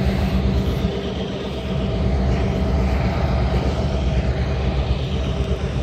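Heavy locomotive engines revving roar continuously, loud and close, a deep throbbing drone with a dense mechanical rumble that holds steady throughout.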